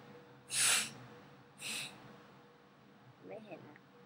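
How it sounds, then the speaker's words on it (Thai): Two short, sharp nasal blasts of air, close and fairly quiet, followed by a faint sniffing breath. "เราสั่งน้ำมูกมาเป็นสีเขียว"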